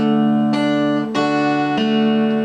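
A few single guitar notes from Pachelbel's Canon in D plucked one after another, each ringing out clearly with sustained harmonics, a slow, sparse melody.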